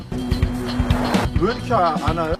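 An old car drives along with a steady engine hum, tires squealing briefly near the middle; a voice speaks over the vehicle noise in the second half.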